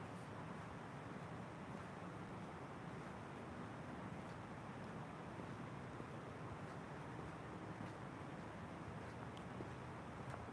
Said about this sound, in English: There's an engine sound right here.